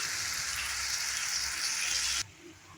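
Kidney bean tomato curry sizzles steadily in a hot pan as spices are mixed in, a close, even frying hiss that cuts off abruptly near the end.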